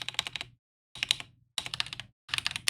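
Rapid bursts of typing on a computer keyboard, four quick clusters of close, crisp keystrokes separated by short silences, with no talk.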